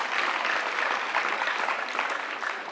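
Audience applause following a speech by a Principal Secretary's representative at an organisation's 10th anniversary celebration, a steady, dense wash of many hands clapping close by with no voices over it.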